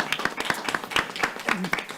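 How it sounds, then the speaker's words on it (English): Committee members on a student achievement and school innovation committee clap together, a faint, small-group patter of distinct, unevenly spaced hand claps recorded from a distance in a meeting room. "I think we should give her a round of applause"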